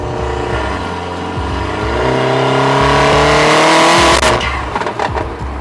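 A Stage 3 Weistec-tuned Mercedes-AMG GLA45 engine revs loudly and close up, its pitch climbing steadily before dropping sharply into crackling pops.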